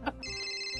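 A mobile phone plays a steady electronic ringtone with sustained bright tones, close and clear after a brief knock at the start, with no talking over it.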